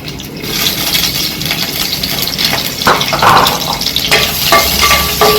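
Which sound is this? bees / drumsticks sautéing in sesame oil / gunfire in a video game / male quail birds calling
drumsticks sautéing in sesame oil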